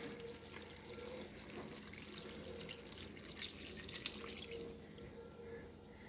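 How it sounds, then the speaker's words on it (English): Tap water pours steadily into a crock pot holding a leftover ham bone and beans for bean soup, a continuous close splashing stream with no talking. "Okay, I'm going to go ahead and add some water."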